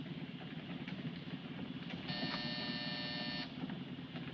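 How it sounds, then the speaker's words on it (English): A flat electric buzz sounds for about a second and a half over a constant low engine-like rumble. "Hit that buzzer."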